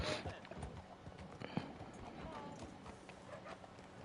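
Horse hooves clip-clop steadily on hard ground in a Western video game set around Saint Denis, a continuous rhythmic trot at moderate distance amid ambient outdoor noise.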